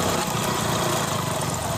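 A motorcycle engine running in third gear along a rough field path, with a constant loud engine drone blended with broad rushing noise and no talking.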